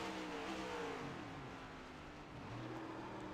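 A race car engine at Watkins Glen roars loudly and steadily, its pitch dipping briefly as it downshifts under braking, then picking up again.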